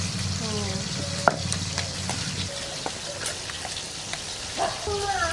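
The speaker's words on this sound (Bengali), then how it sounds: "কাঁচা লঙ্কা শুকনো লঙ্কা একসঙ্গে রেখে ভাজা হোক" Green and dried chillies sizzle and crackle in hot oil with occasional stirring clinks, while faint voices and background sounds drift in.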